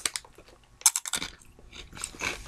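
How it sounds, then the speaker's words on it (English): Close crunching and chewing on crisp veggie stick snacks, with sharp bites followed by several rapid crunchy chews. "And they're still crisp and crunchy."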